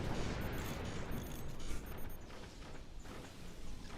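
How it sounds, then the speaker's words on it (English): Incendiary mortars fire in a strategy game amid a dense, continuous barrage of crackling blasts and booms layered over one another, steady and loud throughout with no clear gaps and no talking. "We do see some incendiary mortars out of Team SpritPlancher."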